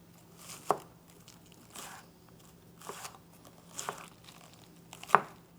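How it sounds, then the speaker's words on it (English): A knife thinly slicing green onions by hand on a board for a Persian green onion frittata, a few soft, sparse cuts spread apart, quiet and close. "Then we start cutting them. Very thin slice."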